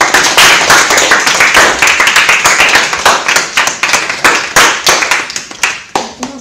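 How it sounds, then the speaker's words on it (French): An audience at a December school event claps after a presentation, a dense burst of close, loud hand claps that thins toward the end into a few scattered claps. "Merci, on peut l'applaudir."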